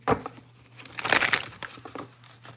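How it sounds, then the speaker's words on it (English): Tarot cards are shuffled up close in quick papery crinkling bursts, one stronger flurry in the middle and softer scattered riffles around it, over a faint low hum. "we're gonna do one more shuffle"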